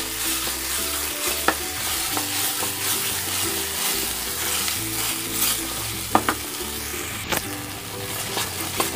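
Ground spices fry in a small amount of oil for a light catla fish curry, stirred steadily in the pan: a continuous close sizzle with scattered spoon scrapes and clicks throughout.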